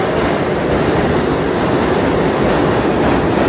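Loud, continuous rumble and roar of a New York subway train arriving at a station, dense and steady throughout with a faint metallic clatter.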